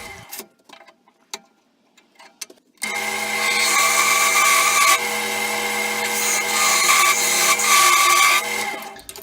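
Brazilian cherry wood ring being turned on a lathe for a segmented bowl, a few faint scrapes and taps first, then a loud, steady whirring cut with a tonal hum and gritty scraping for several seconds, close up.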